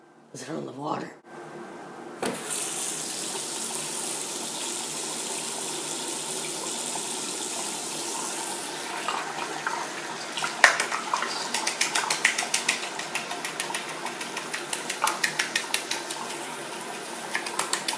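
A bathroom tap runs steadily into a basin, with a continuous rush of water and some clattering toward the end, after a brief voice at the start.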